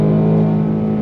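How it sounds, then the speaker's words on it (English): A 2024 Ford Mustang Dark Horse V8 pulls on throttle, a loud, steady, deep engine drone heard close up with no voices over it. "this car, sound-wise, to my ears, sounds better than a C8 Stingray with the Z51 Performance Package."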